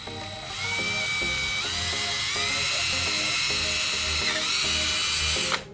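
A power drill whines steadily while boring into PVC pipe for a DIY aquarium overflow, loud and close, with a constant high tone over faint background music before cutting off abruptly at the end.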